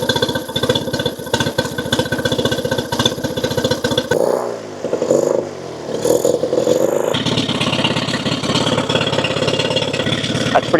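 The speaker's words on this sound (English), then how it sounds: "the motor is actually running decently" A used outboard motor runs at a steady idle with a rough, clattering drone, briefly dipping in tone partway through before settling back, loud and close with no talking.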